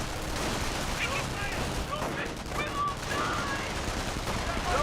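Gunfire from a Company of Heroes 1 battle, with Grenadiers, rifle squads and an MP40 squad trading shots: dense, continuous crackle of small-arms fire at steady loudness, with a voice talking over it.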